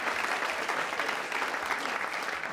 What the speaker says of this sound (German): Die klatschen jetzt, weil das ist ein Kabarettpublikum.